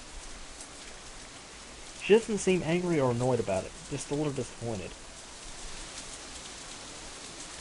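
Rain in the visual novel game Katawa Shoujo, a steady soft hiss of falling drops throughout, with a voice speaking for a few seconds in the middle.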